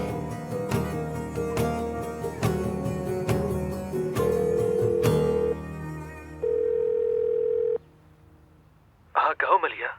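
Telephone on speakerphone: a series of short dialing beeps followed by longer steady ringback tones, then a brief burst of a voice over the line near the end.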